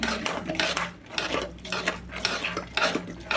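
Chili powder and rock salt are stirred by hand into a tomato and garlic chutney in a pot, giving a steady run of close scraping and clinking strokes with no talk over them.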